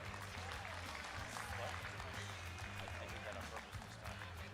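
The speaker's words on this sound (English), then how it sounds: "Big round of applause for the equipped powerlifter" Crowd applause at a college national powerlifting meet, continuous dense clapping filling the hall, with a strong low hum or music bed and crowd noise underneath throughout.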